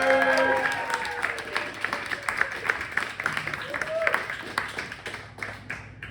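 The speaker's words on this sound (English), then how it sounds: "Big round of applause." A comedy club audience applauds a first-time comedian taking the stage, with scattered clapping and crowd noise that thins out over several seconds while an emcee's voice runs over the start.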